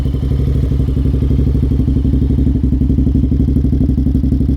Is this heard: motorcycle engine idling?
yes